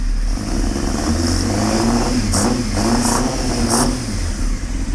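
A motorcycle engine warming up, running in a loud, steady, smooth drone close by, with a few brief higher rattles on top and no talking.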